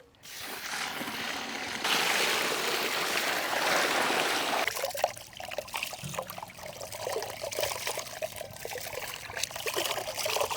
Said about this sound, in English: Let's add water to soak.